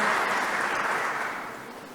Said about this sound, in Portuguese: Rubens Carrilho, palmas para ele, representando o presidente do Legislativo n